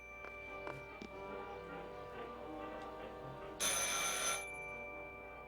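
A telephone rings in the video game Martha Is Dead, a single bright ring burst of about a second standing out over a quiet tonal backdrop with faint ticking.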